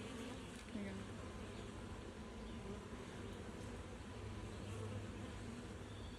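Honey bees from an open hive being inspected hum in a steady, dense buzz that fills the whole stretch, close and constant with slight swells, and no talk over it.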